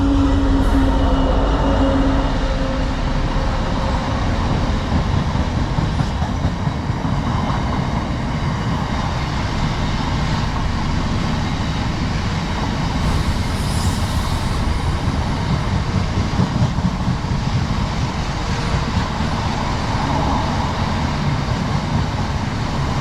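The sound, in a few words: train 66717 passing through Alfreton station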